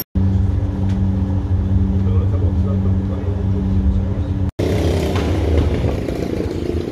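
A tour bus in Antalya, Turkey, drives with a loud, steady engine drone and low rumble close by, broken by a brief cut midway, then rougher road and engine noise.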